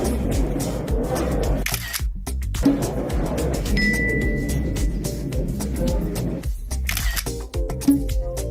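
A single-lens reflex camera's shutter clicks a few times as a fan poses for photos with Manchester City players, set against steady crowd chatter and background commotion.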